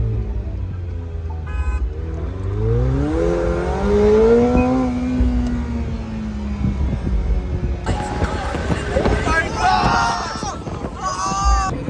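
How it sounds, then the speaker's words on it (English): A McLaren 720S Spider engine in track mode revs and rises in pitch, growling loudly at close range, then roars harder with crackling bursts as it accelerates; a voice speaks over it. "listen to the car in track mode. It sounds so amazing."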